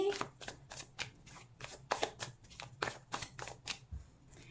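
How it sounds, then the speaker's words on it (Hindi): Tarot cards being shuffled and drawn, a close, continuous rapid riffling and flicking of card stock with quick irregular bursts throughout, fairly quiet and without talking over it. "निकालते हैं पहला रेफरेंस कार्ड आपके लिए"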